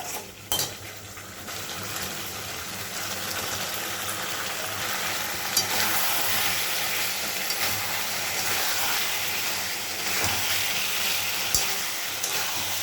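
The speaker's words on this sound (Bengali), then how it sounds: "এবার আলুটা দিয়ে কষাবো।" Potatoes being sautéed in oil with garam masala for a fish curry, a continuous close sizzle with scraping spatula strokes and occasional metallic clinks against the pan.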